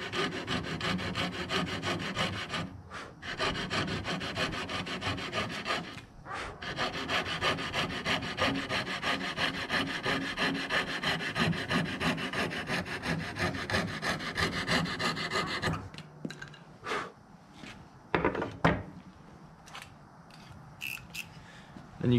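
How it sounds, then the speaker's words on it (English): A coping saw cutting through MDF baseboard makes continuous rapid, rasping back-and-forth strokes at close range for about fifteen seconds, then stops and is followed by a few scattered handling scrapes and knocks. "the key with the coping saw, obviously MDF is really easy"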